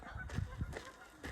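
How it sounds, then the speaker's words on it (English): Geese honk near a rock-climbing park's river, with young goslings about: a few short, low honks clustered close together, fairly faint against outdoor background noise. "Little baby geese."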